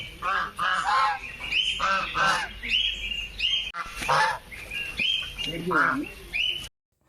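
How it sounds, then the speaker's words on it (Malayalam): A flock of ducks of several types at a farm house calls loudly and continuously, overlapping honking quacks and nasal cries close by, ending abruptly. "എന്നിട്ട് പിന്നെ താറാക്കൂട്ടം, പല ടൈപ്പുള്ള താറാക്ക്."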